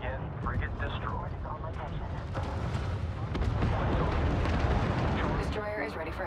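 A frigate explodes in the space game Homeworld 3, a dense rumbling blast that swells and sustains over several seconds, loud and close, mixed with game radio chatter and effects.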